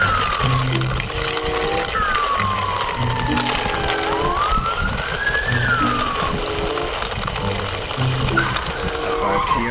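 A toy ambulance's electronic siren wails in rising and falling sweeps alongside a toy mixer truck, with a rhythmic beeping pattern underneath, steady and fairly loud throughout.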